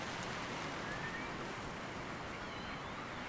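Dense, steady hiss of rain at Welney Wetland Centre, with a rough wind-blown texture and no gaps throughout.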